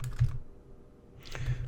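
Numbers being typed into a calculator, a short burst of quick close key presses, then a brief pause, then a few more taps, with no talking.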